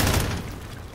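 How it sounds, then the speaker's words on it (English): A rocket explosion in a Call of Duty Modern Warfare gun game match: one loud, close blast that hits at once and rumbles away over about a second, with no talking. "He just rocketed me."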